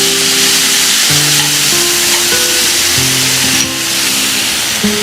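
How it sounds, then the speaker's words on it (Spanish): Onion sofrito frying over medium-low heat makes a steady, close, hissing sizzle throughout, with low, shifting tonal sounds running beneath it. "La idea es cocinar todo esto a fuego medio bajo, porque lo que nos interesa es sacar el dulzor de la cebolla, no tostarla."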